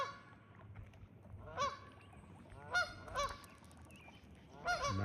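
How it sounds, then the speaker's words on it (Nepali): Two geese honk as they fly in at a waterside spot, giving several loud, harsh calls in separate bursts with quiet gaps between them. "यहाँ राजा हाँस कराउँदै आइरहेको छ"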